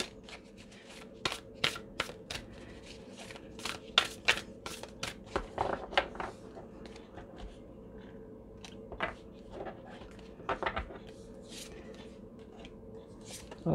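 A deck of oracle cards is shuffled by hand in bursts of crisp riffling and flicking taps, close and fairly quiet, with pauses between the shuffles.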